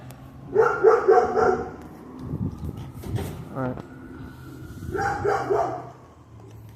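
A dog barks in short bursts, a close cluster early on and another a few seconds later, with people talking in between and over the barking.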